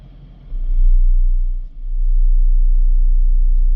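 A car audio system's subwoofers play a 30 Hz bass test tone, a loud, deep steady rumble that swells in, dips briefly and returns at full strength with no talking.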